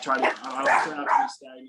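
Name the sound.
dog barking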